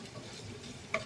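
Garlic, onion and ginger sautéing and being stirred in a pan for chicken arroz caldo, a soft steady sizzle with light scraping and one brief clink near the end, no voices.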